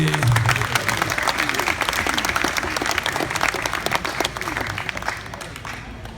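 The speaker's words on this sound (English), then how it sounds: "Give them a round of applause, everybody." Lively audience applause at a hypnotist show for a 2017 high school Project Grad event, dense clapping with cheers that holds strong and then tapers off toward the end.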